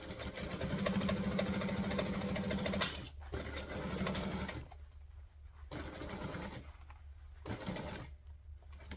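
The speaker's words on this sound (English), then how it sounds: "So stitch, back stitch." A sewing machine stitches forward and back-stitches a bag lining, running steadily with a buzzing hum that stops and restarts in several short bursts, close and loud.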